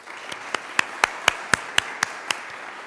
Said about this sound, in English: please join me in a round of applause and welcome Dr.